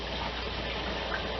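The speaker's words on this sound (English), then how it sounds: "So I'm adding a cup of warm water." Warm water pours steadily into a cast iron pan while rabbit gravy is being made, giving a continuous close gushing wash with no talk over it.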